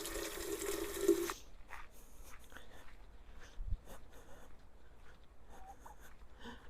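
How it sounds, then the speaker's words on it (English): Hot water runs from a tap into a pitcher for about a second, steady and close, followed by quiet kitchen handling noises and soft clinks. "we're going to fill this up with hot water"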